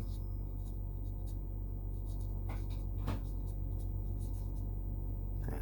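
Handwriting on paper, faint scratchy pen strokes with a couple of sharper marks, set against a steady low hum throughout.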